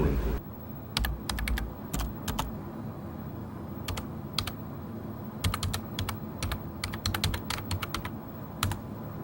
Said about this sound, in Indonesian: Aku tengah mengetik berita untuk dikirimkan ke redaksi